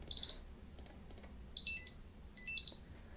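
An STM32 drone flight controller's buzzer beeps on startup in short high-pitched bursts, a double beep followed by two more clusters, close and clear over a quiet background.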